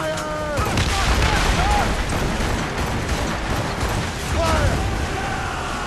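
Ship cannons in the Assassin's Creed Rogue video game boom in a dense, continuous volley of heavy roaring blasts, with shouted voices breaking through the barrage.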